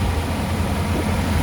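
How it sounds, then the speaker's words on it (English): A 1957 Ford Thunderbird's restored, tuned 312 Y-block V8 idles steadily with a low, even rumble, close and continuous with no talk over it. "There's your Ford Y-block V8 engine,"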